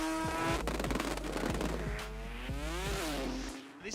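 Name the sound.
Mazda RX3 rotary drag race car launching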